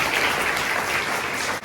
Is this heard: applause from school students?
yes